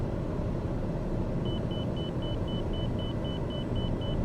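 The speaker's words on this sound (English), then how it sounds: "That beeping is the inner marker indicator." A steady, evenly spaced high electronic inner marker beep repeats over a loud, constant TBM turboprop engine rumble during a landing approach to Duluth in Microsoft Flight Simulator 2020, starting partway through and continuing to the end.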